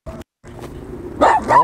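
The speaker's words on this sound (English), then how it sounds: "This dog is still tripping." A dog barks loudly and close, with a short sharp bark, a pause, then a quieter rough bark and two strong, drawn-out yelping barks.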